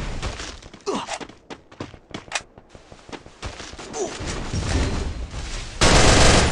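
Shooter video game gunfire, with several sharp bursts of shots and impacts scattered among quieter moments, then a loud sustained blast of noise at the end.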